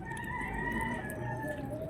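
A chicken of a Mindanao breed at a small farm gives a long drawn-out crow, heard fairly close and steady over faint background noise, with no talking.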